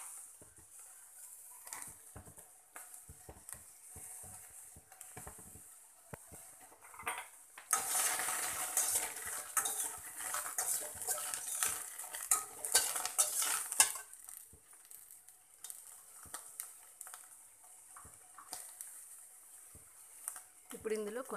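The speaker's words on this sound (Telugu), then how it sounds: "ఇందులో తడిపోయేలాగా జస్ట్ 1 మినిట్ అట్లా ఫ్రై చేసుకోవాలి." Seven or eight green chillies fry briefly in a pan for bottle gourd chutney, a louder burst of sizzling and stirring in the middle between quieter utensil clinks and scrapes, with faint talk at times.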